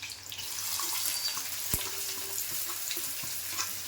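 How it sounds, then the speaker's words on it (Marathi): Onion goes into hot oil that already holds garlic, for Malvani-style dishes: a continuous, fairly quiet hiss of frying with one sharp knock partway through and faint small crackles, and no speech. "आता लसूण झाली आहे आता मी कांदा टाकते"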